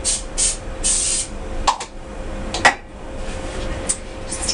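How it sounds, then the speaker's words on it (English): Short hissing spritzes of olive oil sprayed onto grapes in a kitchen, several quick bursts close by, with a couple of light clinks between them. "I'm just going to spritz them with just a touch more olive oil"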